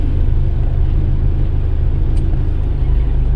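Engine of a 1994 Suzuki Katana GX, an old small car, on the move: a steady, loud low rumble with constant road noise and no clear revving, running unbroken and close throughout.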